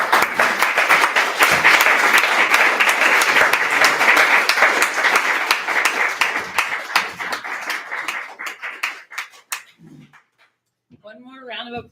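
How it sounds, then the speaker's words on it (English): An audience at a poetry reading gives a poet a burst of applause, dense clapping that thins into scattered individual claps and fades out, followed by a voice starting to speak. "One more round of applause for Danika"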